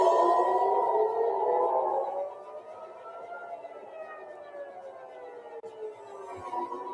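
Air raid sirens wail across Tel Aviv during an Iranian ballistic missile attack, long rising and falling tones that echo from a distance over the city, loud at first and then settling into overlapping drawn-out glides.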